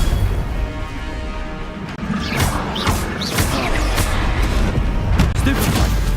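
Confringo spell explosions in the video game Hogwarts Legacy, dense crashing booms and blasts layered over continuous game noise, with a voice talking over the action.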